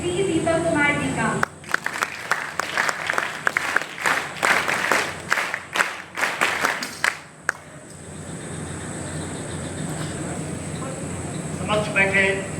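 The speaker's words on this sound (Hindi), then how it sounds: "आइए जोरदार तालियों के साथ स्वागत करें" Loud audience applause welcoming a guest at an NCC camp event, a dense burst of clapping with sharp claps that fades after about seven seconds into steady room noise, with faint voices near the start and end.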